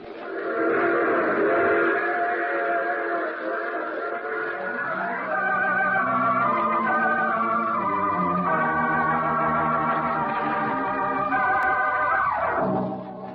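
A train rumbles steadily along while a whistle sounds in long tones, rising and falling, before fading at the end.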